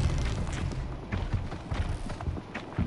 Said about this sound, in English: Flames burn stronger than usual. The flames, they're burning it.